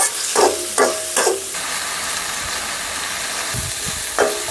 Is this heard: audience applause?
no